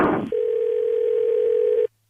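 A telephone dial tone heard while a call is being placed: a steady, loud, continuous hum that follows a short burst of noise, lasting under two seconds before cutting off abruptly.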